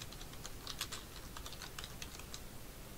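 Keys clatter in a quick, irregular burst on a computer keyboard while a Windows device-manager search is typed in, close and fairly quiet, with no one speaking.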